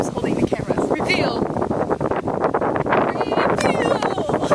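Strong wind blowing outdoors on a cold day, roaring steadily against the microphone with constant gusty buffeting throughout, while a few raised voices and shouts sound faintly underneath.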